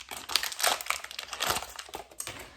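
Scissors cutting open a plastic package of Model Magic clay and the wrapper being peeled back, with close, loud crinkling and crackling in quick irregular bursts.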